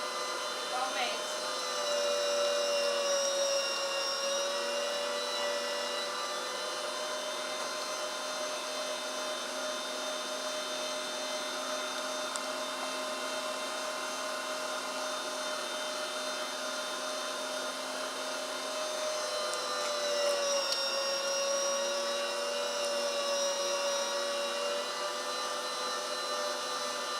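An electric meat grinder grinds pork at home with a steady, loud motor whine that holds constant for a long stretch, dipping and recovering slightly in pitch midway, with no other sounds standing out.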